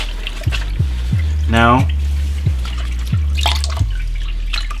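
Dye-soaked tie-dye fabric wrung out by gloved hands over a bucket, liquid falling in a series of distinct drips and a brief trickle, close and clear, with a short spoken word.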